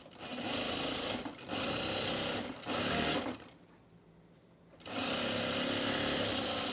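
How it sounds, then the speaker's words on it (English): Sewing machine stitching shut a scrap-fabric mulch mat, running in loud, steady close-up bursts with a brief pause and a quieter stretch before the motor speeds up again. "Let me just sew this one shut."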